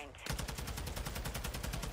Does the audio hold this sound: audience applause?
no